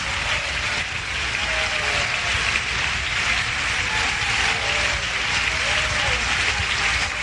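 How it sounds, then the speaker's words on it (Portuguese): Congregation at a Communion service clapping in praise, a sustained, even wash of many hands applauding with voices faintly mixed underneath. "louvai ao Senhor com alegria, com palmas"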